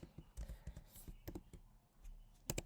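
Typing on a computer keyboard during LaTeX document editing, with a few quick bursts of key clicks close by in a quiet room.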